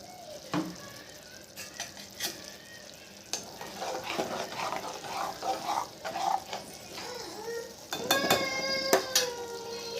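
Coconut, paneer and cashew paste poured into a hot pan, cooking with a soft sizzle, scraping stir strokes and a few clinks of a utensil against the pan, no talking.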